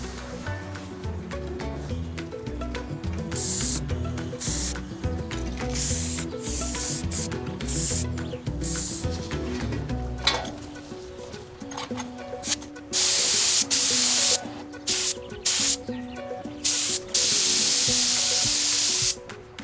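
Primer and satin black paint are sprayed onto stripped, rust-free steel parts in a workshop, with repeated hissing bursts of spray, some short and some long, loud and close, amid clatter and handling noise.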